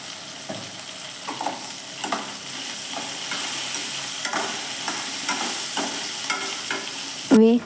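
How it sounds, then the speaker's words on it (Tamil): Okra fries in a pan and is stirred: steady close sizzling with repeated scraping strokes of the spoon against the pan, ending in a sharp louder scrape, with no talk. "வெண்டைக்காயும் இதில் சேர்த்துட்டு கொஞ்சம் நேரம் ஃப்ரை பண்ணிவிட்டு"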